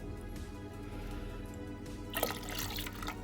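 Water swished around by hand in the rear chamber of a Max Nano aquarium, soft trickling that builds into a brief splashy burst near the end.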